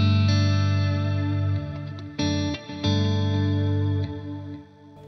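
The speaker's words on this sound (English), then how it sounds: "I'm going to click on tape delay" An electric guitar played through a Neural DSP Quad Cortex with tape delay and modulated reverb rings out in sustained, shimmering chords with wavering modulation and echoing tails, a few strummed changes fading gradually.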